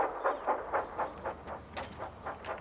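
A cartoon steam engine from Thomas & Friends runs along the tracks through a station, giving a steady, evenly spaced rhythmic chuffing at a moderate level, with no voices.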